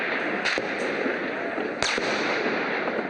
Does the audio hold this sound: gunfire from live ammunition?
yes